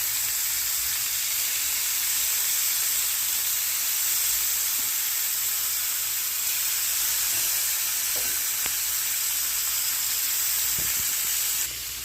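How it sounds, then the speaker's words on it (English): Seasoned salmon and shrimp sear in a hot pan, giving a loud, continuous sizzle and hiss with occasional faint pops, steady throughout and free of talk. "we just want to get that little seasoning seared up on there"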